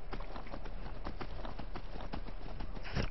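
Horse hooves clip-clop steadily in Skyrim, a brisk, even run of hoofbeats carrying throughout at moderate loudness over muffled game ambience.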